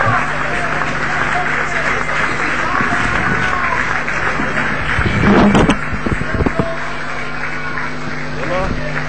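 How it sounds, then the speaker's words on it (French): Members of a plenary assembly applaud and cheer as the newly elected bureau is led to the podium in the Senate chamber, loud, dense clapping mixed with crowd noise and voices, with sharper bursts partway through. "Ceux qui ont gagné sont en train d'applaudir"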